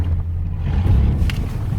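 A pickup truck, cold-started after sitting about three weeks, runs with a loud, steady low engine rumble while driving in four-wheel-drive low, the drone close and continuous throughout.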